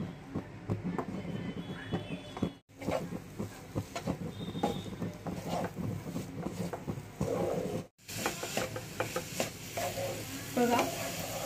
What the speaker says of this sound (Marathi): आता त्यामध्ये खवलेलं खोबरं टाकायचं आणि मिक्स करायचं.